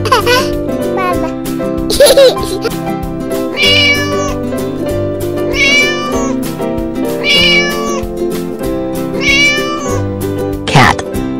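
Cat meows repeat in a children's animal song, several clear rising and falling calls over steady music with a childlike sung voice.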